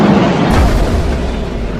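A torpedo strike on an alien ship in a sci-fi space battle lands as a loud, sustained rumbling explosion. Dense low-frequency roar with a sudden swell partway through, close and alone.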